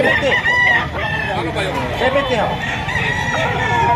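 Several chickens cluck and squawk close by while roosters crow repeatedly, overlapping calls filling a yard in Lipa, Batangas, with a voice in the background.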